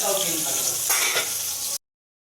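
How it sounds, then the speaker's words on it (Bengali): Loud, close sizzling of potatoes frying in hot oil with salt and turmeric, a steady crackling hiss that stops abruptly after under two seconds. "আলুগুলো পরপর ভেজে নেব"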